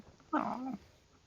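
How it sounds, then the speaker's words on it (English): A dog gives one short, close whine-like vocalization, clear and brief against a quiet background during a Star Wars tabletop roleplaying session. "Oh, that's a dog."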